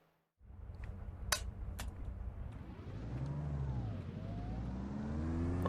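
A Porsche 911 Carrera RS 2.7 drives on the Silverstone racetrack, its engine note climbing and shifting through gears with a steady, loud rising drone and a couple of sharp clicks early on.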